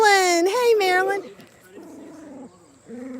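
Reactive dog on a hot walk barking near another dog: a few loud, close, strained barks and whines at the start, then quieter yips and talk.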